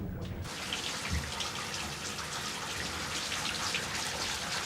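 Water taps left running full blast, a steady broadband rush of flowing water that continues unbroken throughout at moderate level, with no talk over it.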